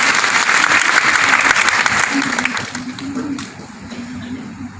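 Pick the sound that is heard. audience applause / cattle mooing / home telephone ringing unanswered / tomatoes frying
audience applause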